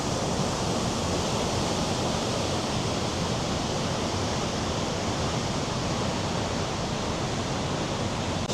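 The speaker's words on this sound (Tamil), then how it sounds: "சூப்பராக இருக்குது தண்ணி பாயிர சத்தமும் லவுடாக இருக்குது" Steady, loud rushing water roars without pause, a dense unbroken wash of sound from the High Force waterfall in the UK.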